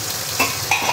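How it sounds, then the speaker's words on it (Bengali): A pan of frying food for a kofta curry is stirred, making a short, close, loud sizzle with a couple of scraping spoon strokes. "এবার একটু बढ़िया করে ভেজে নিতে হবে"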